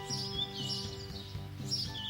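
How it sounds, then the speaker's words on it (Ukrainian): Bird song: high, bright chirps and whistles, repeated several times at moderate volume against a steady tonal background with soft rhythmic low notes, no speech. "що за пташка так співає"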